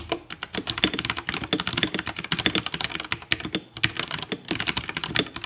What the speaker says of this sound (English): The typing experience on the RK96 has been pretty enjoyable so far